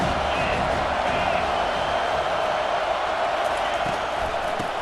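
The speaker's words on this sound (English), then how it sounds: "This crowd knows when to bring it." Stadium crowd in EA Sports College Football 25 roars continuously at high volume, a steady wash of cheering throughout with no clear breaks.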